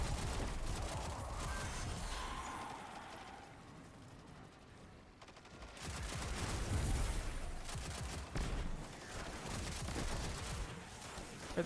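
A video game firefight plays out as continuous mid-distance gunfire and fusillades, fairly faint, with a dip in intensity midway before the shooting resumes.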